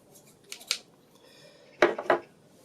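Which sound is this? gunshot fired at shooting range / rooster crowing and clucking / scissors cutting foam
scissors cutting foam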